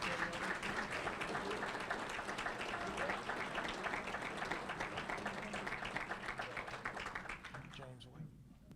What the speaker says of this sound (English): Come on, give these guys another round of applause.